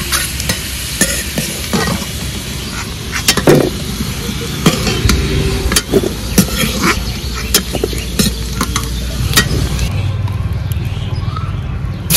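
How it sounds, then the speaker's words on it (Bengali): Paneer cubes frying in a pan, a steady close sizzle broken by frequent sharp clicks and scrapes of a spatula stirring against the metal. "এবার আলুগুলো তুলে পনিরও ভেজে নেব।"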